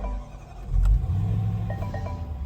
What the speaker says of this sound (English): can hear that 5-litre supercharged V8 burble into action